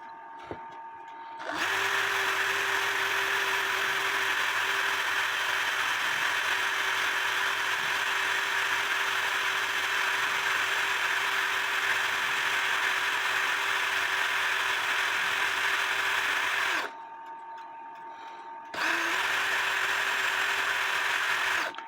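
A steady, high whining drill runs continuously, pauses briefly, then starts up again, drilling a hole in a metal part of an antique Black Forest shield clock.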